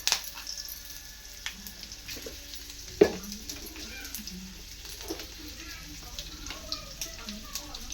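Green chillies, coconut and dal dropped into hot oil in a pan, giving a faint, steady sizzle with occasional pops and a sharp clack near the middle, heard quietly under a woman's speech.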